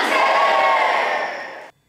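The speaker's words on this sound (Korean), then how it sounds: "15대 시카고 한인회 김창범 회장의 선창에 이어 만세 삼창을 외쳤습니다" A crowd at a March 1st Independence Movement Day ceremony in Chicago shouts a loud sustained cheer of manse in unison, then cuts off abruptly.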